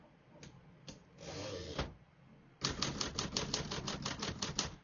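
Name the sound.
typing on a 1954 Remington Quiet-Riter portable typewriter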